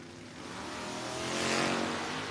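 A 1963 Dodge drag race car roars down the strip in a no-box racing event, its engine note swelling to a peak and easing off, loud and steady without talk.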